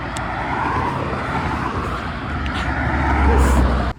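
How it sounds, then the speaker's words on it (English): Cars roll past outside during rush hour, a continuous road hum with tire noise swelling toward the end before cutting off abruptly. "And also sorry about the traffic outside."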